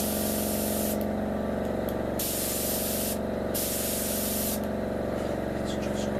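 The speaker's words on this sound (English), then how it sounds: "I'm going to start spraying the bottom of the aircraft first" Continuous hissing spray of an airbrush painting the underside of a B-29A model aircraft, broad and steady, with a few brief pauses and a low compressor hum underneath.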